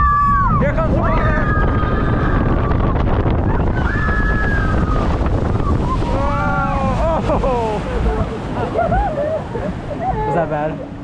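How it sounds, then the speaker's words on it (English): A water ride at Le Pal theme park in France, where a boat drops and sends up a splash, heard as a loud, continuous rush of spray and water. Riders shout and squeal excitedly over it throughout. "Here comes the water."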